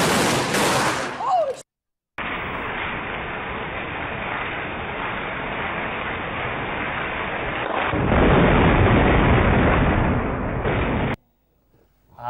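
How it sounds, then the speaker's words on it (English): Thunderstorm in Thailand with a nearby lightning strike: a loud, sustained roar of thunder and rain that swells sharply partway through, then cuts to silence, with brief talk at the start. "the lightning fireball will stop any filming"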